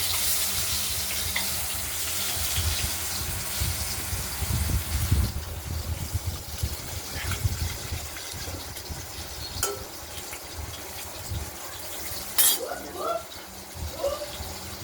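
Potato pieces fry in hot, spiced oil while a fish curry is cooked, a steady hiss and sizzle running throughout with a few sharper crackles and pan knocks, and a voice talks over it.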